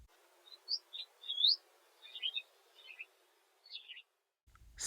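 A clean, pitch-shifted recording of a bird call: high chirps and short whistles, spaced apart, sounding slightly altered in tone, ending with a soft low thump.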